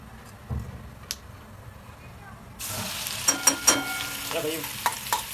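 Cumin seeds, green chillies and garlic dropped into hot oil in a kadhai burst into loud, crackling sizzle halfway through, after a quieter start, with sharp pops on top of the hiss; a voice speaks briefly.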